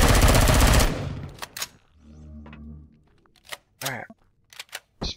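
A shotgun fires in the space survival game Empyrion - Galactic Survival: one loud, dense blast up front, then sparser sharp shots and short game noises scattered across a quieter stretch, with brief speech between.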